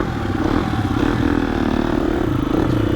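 A motorcycle engine revving steadily at high revs, slightly over-revved, loud and close with a continuous rough mechanical drone and no talk.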